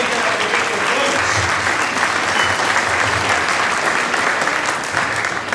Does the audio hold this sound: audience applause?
yes